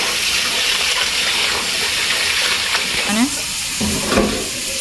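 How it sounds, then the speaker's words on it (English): Rice is washed by hand in a pot of water as the first rinse before cooking. Close, continuous swishing, sloshing and trickling water stirs throughout, with a few sharper splashes near the end. "And this is the first wash."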